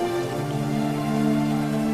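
Steady rain falls in a night movie scene where a superhero in red kisses his girlfriend, a continuous even hiss with faint tonal music underneath and no talk.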